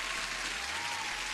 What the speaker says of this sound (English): Applause to you as well.